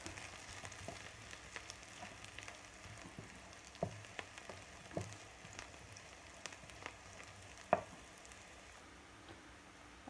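Potatoes frying in a pan alongside onions, before corned beef is added, giving a soft steady sizzle with scattered small pops and crackles at low volume and no talking.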